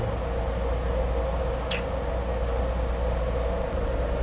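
A moving passenger train interior on a trip from Los Angeles, with a steady low rumble and broadband hiss of the carriage running, plus a brief high squeal partway through.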